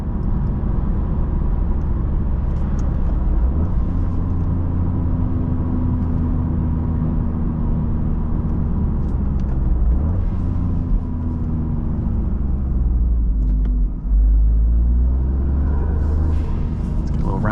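Low steady engine drone and road rumble inside a Toyota GR Corolla on the move, with a shifting tone as it accelerates, heard under someone talking throughout.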